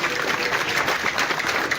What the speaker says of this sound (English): I will ask each of us to clap for our able panel.